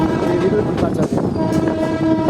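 The Puri Patna Weekly Express rolls through Jasidih Junction station in Jharkhand, a steady loud rumble of the train with tonal hums and whines over it, continuous and close.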